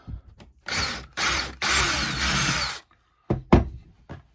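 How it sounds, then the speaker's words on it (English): A power drill whirs in three short bursts, then a longer steady run as it bores an 8mm hole through plasterboard, followed by a few sharp taps. "So we're just drilling our 8mm hole."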